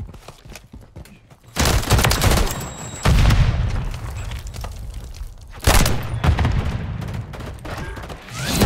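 Video game gunfight, bursts of rapid loud gunfire and booms in clusters with quieter gaps between them, mostly without talk.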